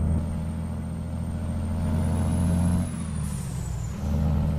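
A truck engine hums steadily in American Truck Simulator, a 270-horsepower rig with a 12-speed gearbox, its low drone shifting slightly as a high whine rises and falls, with no talk.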